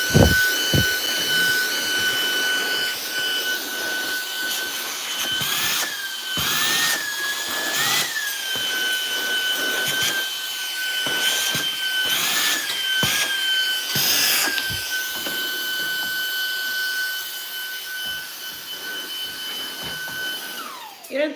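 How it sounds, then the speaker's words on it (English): A vacuum cleaner runs steadily for about twenty seconds while cleaning a room at home, with a constant motor whine that surges and dips in loudness as it is pushed around, and no talking over it. "Okay, I'm gonna vacuum really quick."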